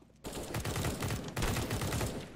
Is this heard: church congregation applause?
no